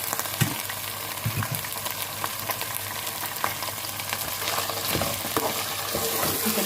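Chicken frying with browned onions in a pan, a steady close sizzle with occasional stirring scrapes running throughout, no voices.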